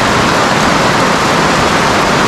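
Sudden heavy rain pours down steadily outdoors on a hot day, a dense, loud, continuous hiss of falling water with no pauses and no voices.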